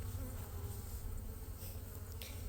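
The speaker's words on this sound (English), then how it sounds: "accidentally trapped some bees in my pocket" Steady, low honey bee buzzing from bees trapped in a pocket fills the whole stretch, close and muffled, like bees droning inside fabric, with a few faint higher whines.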